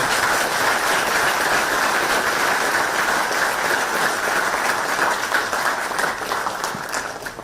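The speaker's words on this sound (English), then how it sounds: "this needs a big, big round of applause." Sustained applause from a large crowd of university students in Texas, dense and steady clapping that fills the whole stretch before tapering slightly at the end.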